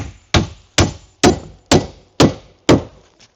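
Six sharp, evenly spaced strikes from a small hammer knock against wood while framing a deck, each a crisp thwack with a brief ringing decay, loud and close.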